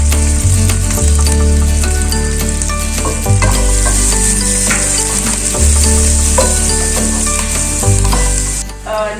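Onions and curry leaves sizzle steadily in hot oil for a chicken dum biriyani, with a loud, continuous crackle, occasional stirring scrapes, and a low tonal hum running underneath throughout.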